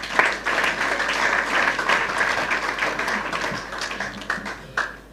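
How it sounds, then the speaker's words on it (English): An audience at a Ghanaian youth entrepreneurship and leadership gathering claps for itself, producing a steady, dense round of applause that holds for about five seconds, briefly dips, then swells again at the end. "Clap for yourself again."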